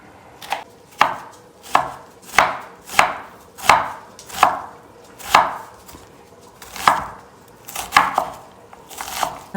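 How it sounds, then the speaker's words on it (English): Steady knife chops on a cutting board, about a dozen crisp strikes in an uneven rhythm as an onion is finely diced, close and fairly loud with no talking. "I'm going to start by chopping the onion into a fine dice."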